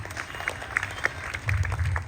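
An audience at a village Agri Koli community Narali Purnima celebration applauds, heard as a short, moderately loud patter of claps that swells toward the end.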